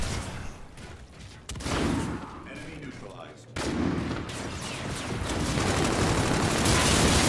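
Gunfire from the Type 2 gun in a video game, loud sustained bursts interrupted by brief pauses, then a long continuous stretch of rapid fire that builds toward the end.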